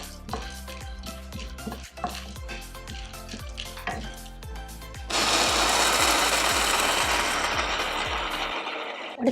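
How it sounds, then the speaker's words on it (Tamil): Split roasted gram dal is dry-roasted in a pan at home for ragi laddu, with a spatula clattering in repeated scraping strokes, then a steady loud rattling hiss as the dal tumbles and sizzles in the hot pan. "உடைச்ச கடலை போட்டு வறுக்கிறேன்."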